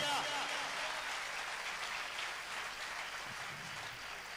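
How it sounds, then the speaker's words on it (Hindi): A church congregation applauds loudly, a dense, steady wash of clapping that fills the whole stretch and fades slightly toward the end. "जोरदार ताली उस परमेश्वर के लिए।"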